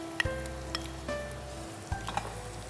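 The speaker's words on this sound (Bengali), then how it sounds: "পেঁয়াজটা ভাজা হয়ে এসছে, এখন আমরা দিচ্ছি আদা বাটা 2 টেবিল চামচ পরিমাণ" Onion fries in a pan as ginger paste goes in for a beef curry. A gentle sizzle runs throughout, with a few light clinks of a utensil.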